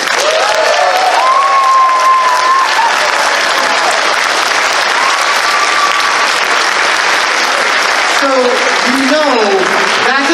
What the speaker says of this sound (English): let's hear from a round of applause.